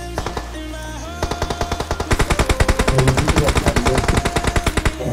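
Automatic gunfire from the mobile battle royale game BGMI rattles out in loud, rapid bursts that build into a dense, continuous stream of close shots.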